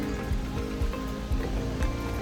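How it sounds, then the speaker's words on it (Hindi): Rain falls steadily during a monsoon long drive, a continuous wet patter close by with low rumbling underneath and no voices. "बारिश हो रही है"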